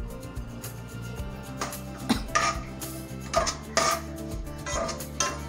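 Coconut strips go into a pan of oil for chiwda, bringing repeated metallic clinks and scrapes of a utensil against the pan over a low kitchen hum, close and uneven.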